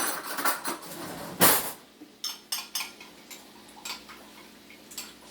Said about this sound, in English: And whisk it around